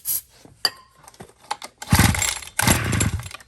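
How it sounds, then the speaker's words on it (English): A small scooter engine on starter fluid fires in two short rough bursts after some clicks and fiddling, loud and close with no talk. "I'm going to put some starter fluid in it and see if it at least fires"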